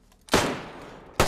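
Two sharp rifle gunshots ring out in a DayZ firefight, a loud close crack with a long echoing tail, then a second report about a second later.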